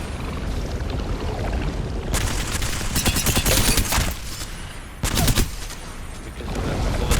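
Bursts of rapid gunfire in Apex Legends, loud automatic volleys over a constant busy game background, with a pause between two main bursts.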